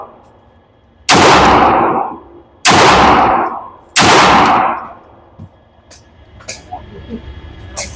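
Three loud, close gunshots from a Vulcan firearm at an outdoor shooting range, evenly spaced about a second and a half apart, each followed by a ringing decay, then quieter small clinks and faint handling noise.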